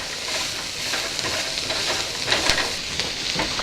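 Baby carrots cut into moons stir-fried in a wok, a continuous bright sizzle with scraping spatula strokes keeping the pieces moving, close and even.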